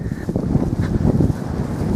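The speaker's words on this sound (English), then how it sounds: "Quite windy" Wind buffeting the microphone on an exposed ridge crest in the Mendip Hills near Ebbor Gorge, a steady loud rushing roar with gusty fluctuations, with no voices.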